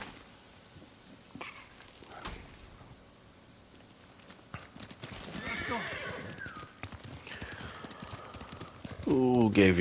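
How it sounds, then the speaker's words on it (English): A horse's hooves clop in the Ghost of Tsushima video game over soft, rain-like ambience, growing louder midway, before a near, clear neigh at the very end. "Yep, where you at, horse? Come here"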